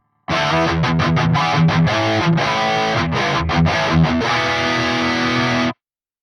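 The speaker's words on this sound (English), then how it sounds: "engaging this will give that wide double-tracked stereo sounding effect" Soldano SLO-100 X amp plugin with a doubler stereo effect set to a 6 millisecond spread, heavy distorted guitar chugging in tight rhythmic stops and bursts, loud and continuous for about five seconds before cutting off.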